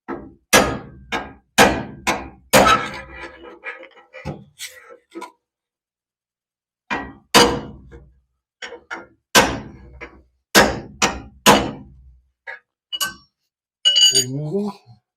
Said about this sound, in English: A slightly heavier hammer.